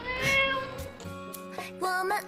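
A voice imitates a cat meowing on a Chinese TV dating show while telling a bedtime story, giving three quick sung meows in a row, close and clear.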